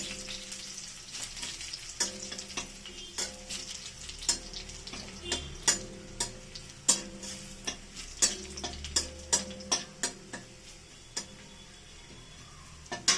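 Onion and garlic fry in a pan for a sambar, a steady low sizzle broken by frequent sharp clicks and taps of a utensil against the pan, fairly quiet and close, with no talking.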